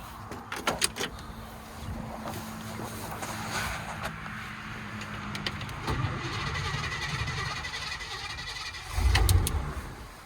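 A 1957 Chevy Bel Air, unstarted for over 15 years and fitted with a new solenoid, clicks and cranks in short bursts, then a low engine rumble builds briefly near the end; speech is faint underneath.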